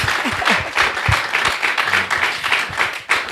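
A church congregation claps and cheers in sustained, dense applause at a live worship gathering, with voices mixed into the clapping.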